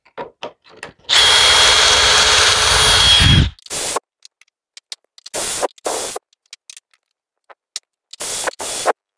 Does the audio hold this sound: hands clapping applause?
no